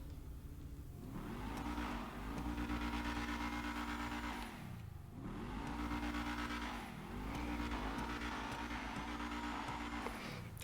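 Dewbauchee Rapid GT sports car in GTA Online revving and accelerating through several gear shifts, engine pitch climbing then dropping in repeated sweeps, loud and close, with brief tire squeal and no talk.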